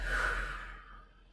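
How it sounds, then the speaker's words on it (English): A deep breath in during a slow flow yoga session, a single soft, close inhale that tapers off over about a second. "Take a big breath in."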